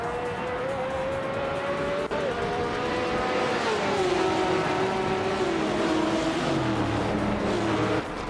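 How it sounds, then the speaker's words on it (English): A race at Goodwood with a vintage 1973 Porsche Spider among the cars: a continuous loud engine roar with shifting pitch as the cars accelerate and pass. "the race just kicked off at Goodwood and leading the pack is the Canon class in the Scuderia Veloce team"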